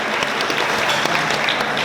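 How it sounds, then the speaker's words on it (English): A theatre audience at a charity cabaret show opening breaks into a dense, steady round of applause, many hands clapping together at an even loudness throughout. "So thank you, round of applause to you"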